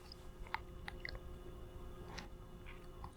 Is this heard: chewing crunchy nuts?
yes